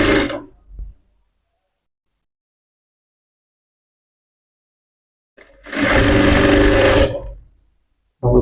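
A sewing machine stitching a blouse runs in short bursts, with one steady run of about a second and a half between long silences. It is close and loud, with no talking.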